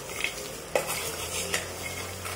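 Peanuts fry in oil over a very low flame with a constant soft sizzle, while a utensil stirs and scrapes the pan in a few distinct clinks and sweeps, close by and with no talking.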